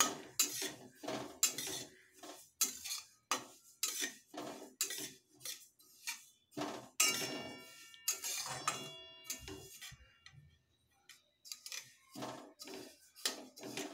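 Sesame seeds roasting in a pan, stirred steadily with a metal spoon, giving repeated scraping and clinking strokes in a quick rhythm with brief pauses, fairly close and moderately quiet.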